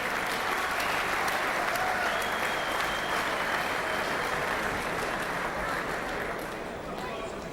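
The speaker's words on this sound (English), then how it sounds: "how about a big round of applause for a gallant performance by Mark Thompson from Winkel, South Australi" Sustained crowd applause fills an arena after a boxing bout, a dense steady wash of clapping that holds loud throughout and eases slightly near the end.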